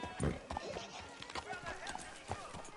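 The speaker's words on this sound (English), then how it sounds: "that horse is better looking than my wife" Horse hooves clip-clop at a steady walking pace in the video game Red Dead Redemption 2, fairly soft and close, with light ambient background beneath the repeated hoof falls.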